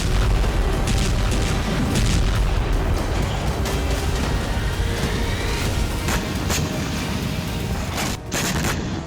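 Missile and rocket launcher strikes in the Kursk region during the Russia-Ukraine war: a continuous loud roar of blasts and booming fire with repeated sharp reports throughout, dense and chaotic.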